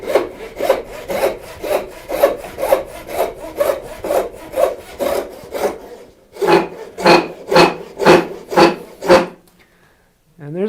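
A hand saw cuts wood for a bridle joint in even back-and-forth strokes, about sixteen rasping passes, close and loud. A brief pause splits the run, then faster strokes follow before it stops.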